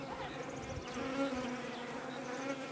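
Bees buzzing around a beehive where they are drawing out wax foundation frames, a dense, steady hum of many insects close by, with individual buzzes rising and falling over the swarm.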